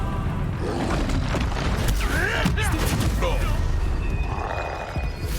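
Spell combat in the Hogwarts Legacy video game, with an Expelliarmus cast amid a dense, loud mix of magical blasts, booms and crackling effects, with character voices calling out over the din.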